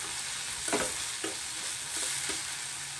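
Sliced garlic sizzles steadily in hot oil with tomato and onion, while a spoon stirs through the pan in several distinct scraping strokes.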